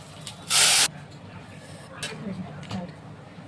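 Boiled dal is poured into a hot pan, giving one loud, sharp hiss of about a third of a second, followed by softer faint sizzles and quiet kitchen sounds.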